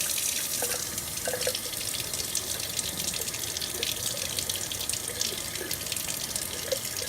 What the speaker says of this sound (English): Now we're going to fill this jar up with water.